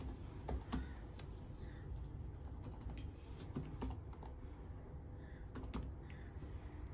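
Someone types on a computer keyboard in the Windows command prompt, producing quiet, irregular key clicks with a few sharper taps, close but faint over a low room hum, without speech.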